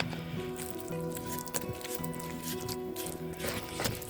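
Ecoresin powder being mixed with water for a candle, soft wet squishing and patter that continues steadily under faint background music.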